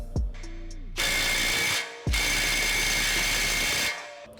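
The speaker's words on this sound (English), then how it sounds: "a wheel stud installer, which just looks like a ball bearing and a hunk of metal, but supposedly it's gonna help pull the wheel stud through" Wheel stud installer, a ball bearing and steel block, being tightened to draw a wheel stud through a hub on a daily-driver car: two long bursts of loud, gritty mechanical grinding and ratcheting, each starting with a clank, close by and with no talk.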